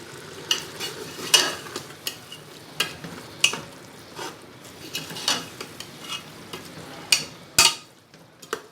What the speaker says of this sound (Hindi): रख देंगे ताकि पालक मसाले के साथ थोड़ा भून जाए।